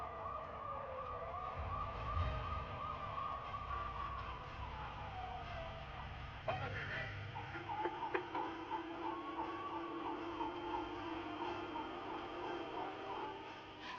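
A Campbell County, Georgia police car's siren wails through a high-speed chase, its rising and falling tone sustained over engine and road roar, with a couple of sharp knocks partway through.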